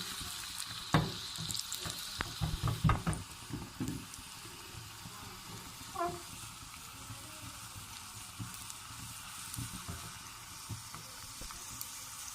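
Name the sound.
tadka with ginger sizzling in hot oil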